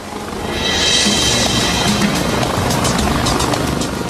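A helicopter's steady rotor roar fills the air, loud and continuous with a broad rushing hiss, holding level throughout.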